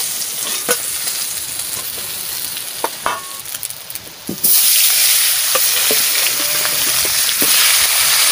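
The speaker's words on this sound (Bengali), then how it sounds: "মাছ ভাজা হয়ে গেছে, আমি কড়াইটা একটু নামাই নিচ্ছি" Fish fries in a kadai with a close, steady sizzle and occasional clinks and scrapes of stirring; partway through the hiss jumps abruptly to a much louder, brighter crackle that continues to the end.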